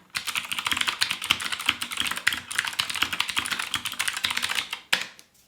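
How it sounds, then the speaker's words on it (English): Rapid, clacky typing on a Whirlwind FX Atom 60% mechanical keyboard, a dense stream of crisp keystrokes up close, ending with a couple of final taps. "here's a little typing test for y'all to hear what this keyboard actually sounds like when it's in use"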